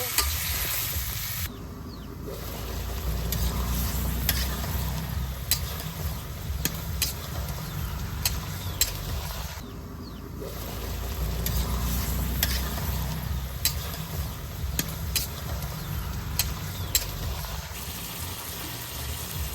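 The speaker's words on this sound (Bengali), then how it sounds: "এখন কষানি মশলার ভেজে দিব কাইটা দিয়ে রাখা কমবে মশলার লাগে কুমড়াটারে খুব ভালোভাবে কষে নিব" Pumpkin pieces stir-fried with spices in a hot pan, a steady close sizzle and frying hiss running throughout with repeated scraping and stirring clicks from the utensil.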